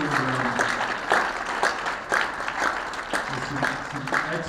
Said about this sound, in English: So I'd say let's give those people some applause.